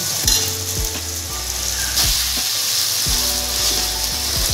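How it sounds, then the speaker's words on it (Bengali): Spices sizzle loudly in hot oil with salt and turmeric while a spoon stirs them, the frying hiss steady and close with repeated scraping strokes and faint metallic knocks, no voices present. "লবণ আর 1 চামচ হলুদ দিয়ে নিয়েছি পরিমাণ মতো। কষাতে থাকবো।"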